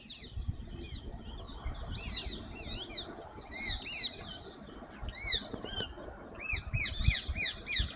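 Rose-ringed parakeets call from a tree close by with sharp, shrill squawks and chirps in repeated bursts. The calls become a rapid run of piercing notes near the end, over faint background noise.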